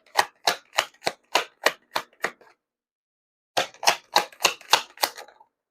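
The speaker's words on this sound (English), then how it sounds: "Ooh, cards are flying out." Tarot cards riffle-shuffled by hand, giving two quick runs of sharp, evenly spaced clicks and snaps, close and crisp, with a short silent pause between the bursts.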